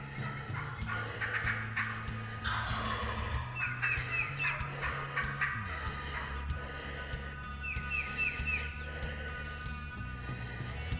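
Wild turkey gobbling, loud rattling gobbles repeated several times over the ringing sound of outdoor birdsong, with low background hum and no talking.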